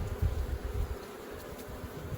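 Honey bees buzz at a beehive while two colonies are being merged, a steady low drone close up with no talk.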